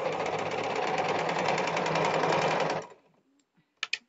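A sewing machine runs steadily, stitching a folded strip for a boat neck blouse for nearly three seconds, then stops, followed by a few faint clicks and handling sounds.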